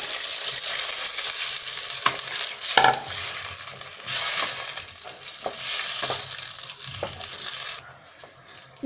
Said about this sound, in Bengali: এরপর আমি এর মধ্যে দিয়ে দিচ্ছি জল